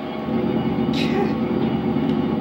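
In GTA San Andreas, a heavily loaded freight train rumbles along in a steady, loud, continuous roll, with brief higher scrapes over the low drone.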